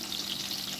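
Onion frying in oil for maqluba gives a dense, continuous hiss of sizzling that is moderately loud and steady through the brief moment, with no voices.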